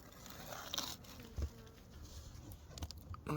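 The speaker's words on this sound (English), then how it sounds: "That's a box of bees." A low buzz of bees in a hive box hums steadily close by in winter, with faint knocks and rustles mixed in.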